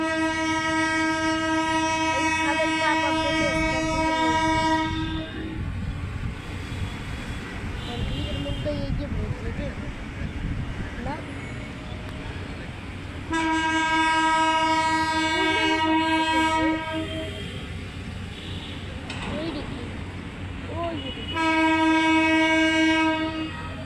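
A train passes nearby with loud, sustained horn blasts in three bursts, over rolling rail rumble and faint voices.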